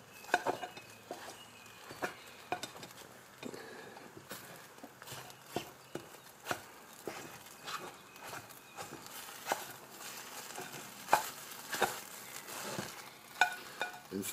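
Fluffy Kaiserschmarrn pancake being torn apart in a pan while cooking outdoors on a camp stove: scattered scraping and tapping clicks of utensil on pan, fairly quiet, with a faint sizzle underneath.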